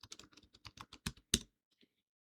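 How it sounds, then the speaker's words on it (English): Fingers type a quick burst of clicks on a computer keyboard, about a dozen keystrokes in an uneven rhythm that ends with a harder tap. A short pause and one faint click follow. "what I can do is I can start typing in"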